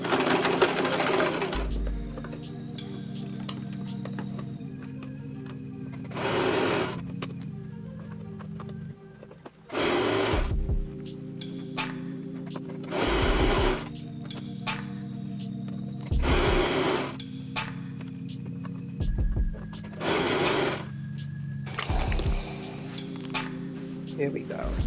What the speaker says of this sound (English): pull the fabric at the same time, so that way you can have the stretch in the area where you want to stitch the elastic